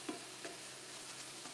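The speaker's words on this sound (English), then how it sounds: "This is frying off beautifully." Chinese omelette frying in a home kitchen pan gives a soft, steady sizzle throughout, with a couple of faint knocks from stirring near the start.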